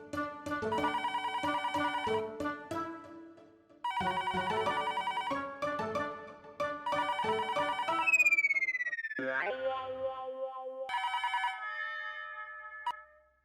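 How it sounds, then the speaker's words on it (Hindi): A household telephone rings with a melodic electronic ringtone in a Hindi comedy scene, repeating in bursts of several seconds before a falling sweep and a final short ring, fairly quiet and without voices. "फिर से फोन? ये जरूर नट्टू काका और बाघा का होगा"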